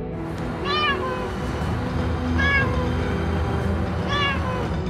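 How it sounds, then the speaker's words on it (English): A hungry old street cat in a neighborhood meows three times at an even pace, each call close and clear above steady outdoor background noise. "The team from Paw Meow Channel came to the habitat of one old hungry cat in a nearby neighborhood"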